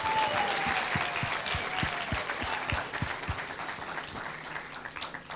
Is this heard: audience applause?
yes